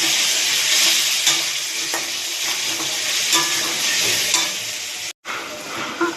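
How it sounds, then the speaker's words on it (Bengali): Potatoes fry in oil seasoned with salt and turmeric, giving a loud, steady, close sizzle with light stirring scrapes, broken once by a split-second silence near the end. "এবার আমি ওই তেলেই আলুগুলোকে বেশ লাল করে ভেজে নেব।"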